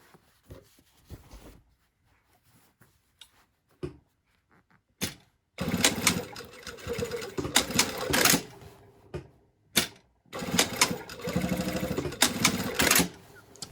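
Sewing machine backstitching over a jeans yoke seam, bursts of rapid mechanical stitching after quieter clicks and handling, close and fairly loud, no voices.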